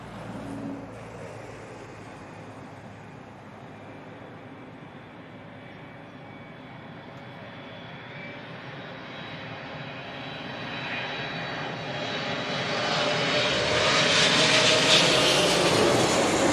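An airliner lands at London Heathrow, its engines roaring steadily, then swelling louder and rising in pitch as reverse thrust builds on the runway.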